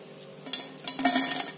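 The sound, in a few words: pitha frying in oil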